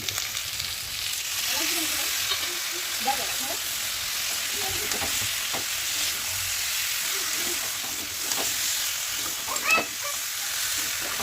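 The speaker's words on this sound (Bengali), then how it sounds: "এভাবে কষাই নিই।" Spices and coriander powder sautéing for a potato and egg curry, with a steady hissing sizzle and occasional stirring scrapes throughout, close and even.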